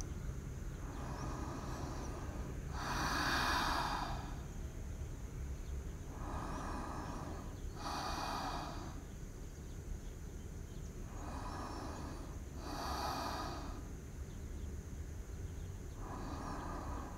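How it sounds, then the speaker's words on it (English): Slow, deep breaths during a yoga calf stretch, each inhale and exhale a soft airy swell repeating about every four seconds over a steady hum, with no talking. "let's take our 5 deep breaths"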